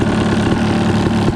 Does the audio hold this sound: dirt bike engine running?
yes